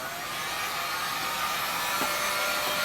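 A heat gun blowing on a snowboard base during waxing: a steady, moderately loud airy whoosh with a faint motor hum, continuous throughout with no talk.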